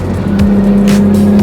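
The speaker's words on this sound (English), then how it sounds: "it sounds pretty good if you can sort of just ignore that kind of buzziness of the muffler" A 1997 Ford Probe GT's engine and exhaust hum steadily from inside the moving car, a low, even drone with a buzzy muffler tone and faint road noise.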